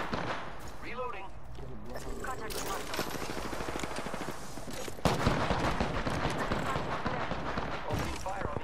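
Video game gunfire rattles in bursts of rapid shots under an ongoing battle soundscape, with a louder, denser stretch of firing toward the end while a voice talks over it.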